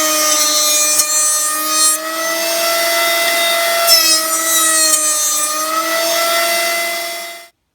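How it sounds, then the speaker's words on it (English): Whining 6 1/8 inch jointer squaring the edge of a construction-grade 2x6 board, a loud steady motor tone with cutting noise surging in two passes before the machine cuts off abruptly. "we're going to do that with the 6 1/8 inch joiner"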